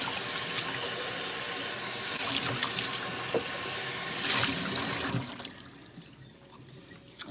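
A tap runs steadily for about five seconds while refilling a bottle, a loud, close hiss of flowing water that then shuts off, leaving faint room noise.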